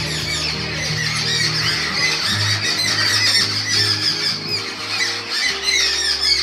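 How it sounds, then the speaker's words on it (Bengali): Jungle babblers on a city rooftop garden chatter noisily, a dense, continuous flock of harsh squawks and squeals, loud and close, without any pause. "সারা দুপুর ছাতারে পাখিরা হই চই করেই চলেছে।"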